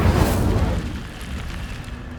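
Incendio fire spell cast in Hogwarts Legacy, a loud deep whooshing burst of flame that blooms at once and then rolls into a sustained roaring rumble, heard alone.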